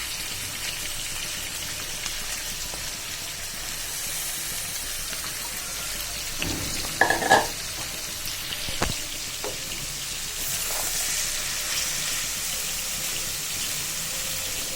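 Chopped flat beans, potato and tomato frying in a pan, a soft, even hiss with a brief utensil clatter midway, the sizzle growing brighter and louder near the end.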